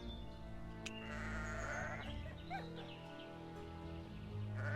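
Sheep in the farming board game Caverna Digital bleat several times in quick wavering calls over a steady background hum of game music, faint and close.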